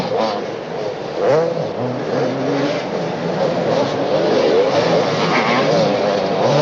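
Motocross bikes race around a 1982 supercross track in Melbourne, the engines revving and rising in pitch over a busy roar while a commentator talks over the noise.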